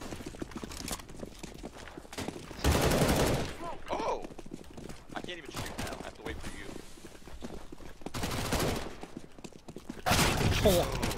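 Rifle fire erupts in several loud, short bursts during a Counter-Strike match on the Mirage map, between footsteps and quieter game noise. Someone talks over parts of it.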